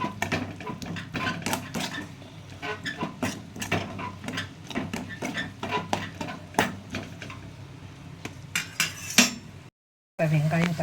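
Onion, tomato and ginger-garlic paste being sautéed for a ghee brinjal gravy, with a continuous rhythmic scraping and clinking of a spoon against the pan and a soft sizzle underneath, ending in a brief gap.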